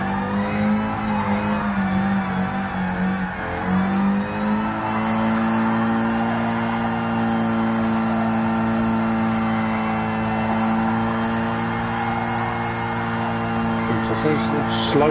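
A car drifting in the Gran Turismo Sport racing game, its engine holding a steady, loud, sustained drone with pitch shifts as it slides through a slow, wobbly drift.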